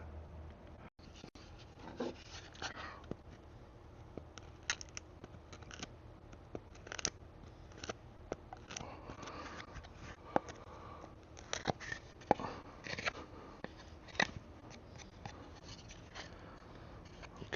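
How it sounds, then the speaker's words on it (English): Scraping and rasping strokes as a knife cuts a V-notch into a wooden bow drill fire board, irregular close scratches and small clicks repeating steadily throughout, fairly quiet with no talking. "Let's go ahead and cut that V-notch."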